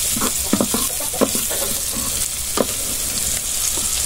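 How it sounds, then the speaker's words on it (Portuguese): Beans being added to a hot frying pan for a country-style lunch, a steady bright sizzle with a few sharp clinks and scrapes of stirring spread across the sizzling, close and fairly loud. "Agora, gente, eu já vou colocar o meu feijão."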